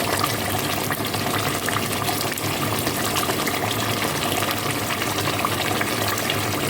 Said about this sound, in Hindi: अभी गोश्त में मैं केवड़ा वाटर डाल रही हूँ